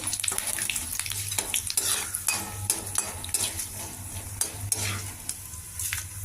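Cumin, mustard seeds and chopped chilli crackle and sizzle in hot oil while a utensil scrapes and clinks against the pan in irregular strokes.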